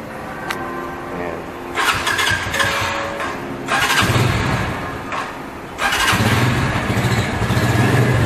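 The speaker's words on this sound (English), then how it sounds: "let me give a sound check of the bike with this type of custom muffler" Keeway Cafe Racer 152 motorcycle, also sold as the Benelli Motobi 152, with a custom muffler and low mileage, starting and revving in loud bursts that swell and settle back to a burbling idle, with a voice heard briefly.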